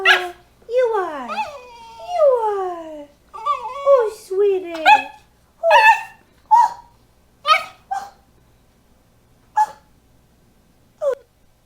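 A puppy whimpers in high, sliding whines and then gives a series of short, sharp yips and barks spaced out with pauses, close and clear, with a brief affectionate voice in between.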